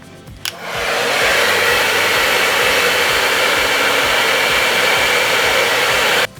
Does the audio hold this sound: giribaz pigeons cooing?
no